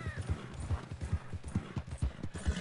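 Horse hooves clip-clop in a steady walking rhythm in Red Dead Redemption 2, fairly close but soft, with no talking.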